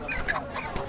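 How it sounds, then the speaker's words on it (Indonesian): Brief clucking of village chickens nearby at a busy market in Jeneponto, Indonesia, a couple of short calls over a busy background with faint voices. "Di sini juga banyak ayam kampung yang dijual."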